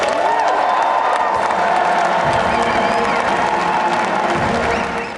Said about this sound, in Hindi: पूरा हॉल तालियों की गड़गड़ाहट से गूंज उठा